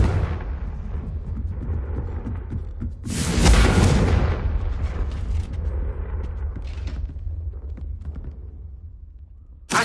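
A fiery Confringo blasting spell explodes in Hogwarts Legacy, a single loud boom with a broad rumbling burst that decays into lingering crackle and rumble.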